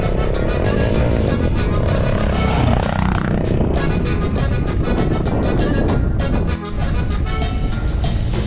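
A Suzuki motorcycle engine runs loud and steady close by, its continuous roar mixed with rushing wind noise and a brief dip near the end.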